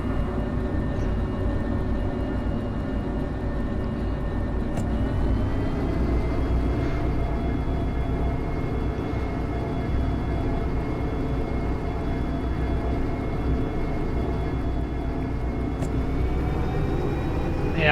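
Steam locomotive in Derail Valley throttling up on an uphill grade, a steady, loud mechanical drone and rumble that holds constant throughout with only slight shifts, no talking over it.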